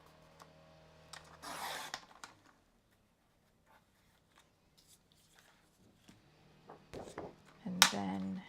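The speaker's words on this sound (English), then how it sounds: "So let's cut a strip of that." Scissors snip through a strip of scrapbook paper in a few short, crisp bursts separated by quiet pauses, with light paper rustling nearby.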